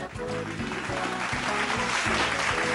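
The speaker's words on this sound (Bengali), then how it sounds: "জোরে হাততালি" Studio audience at a Bengali family game show breaks into steady, loud applause that fills the whole moment, with sustained clapping and a rhythmic low thumping running underneath.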